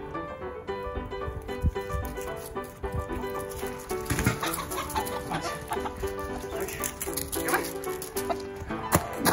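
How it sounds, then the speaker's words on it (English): Chickens clucking close by in a busy yard amid scattered thumps and movement noise, irregular bursts of fowl calls running throughout the stretch. "Come here, chickens!"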